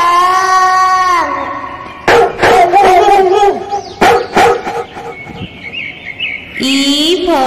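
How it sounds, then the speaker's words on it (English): A dog barks in a series of sharp, loud yelps mixed with bright chirping, tweeting sounds over a steady tone, all crowded together in a busy, cartoonish animal sound sequence. "D for dog."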